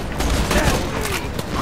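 Gunfire rattles in the Borderlands 2 video game, a dense fusillade of repeated shots at close range filling the whole stretch, with faint voices mixed beneath.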